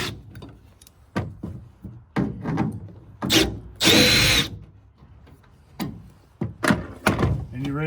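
A socket tool spinning out the turn signal lens screws gives several short bursts of whirring and ratcheting, close by, separated by clicks, pauses and handling noises.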